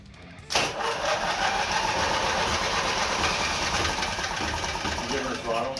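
A Briggs twin-cylinder mini bike engine cranks briefly, fires and then runs loudly and steadily at close range, with a busy rattling drone throughout and talk over it.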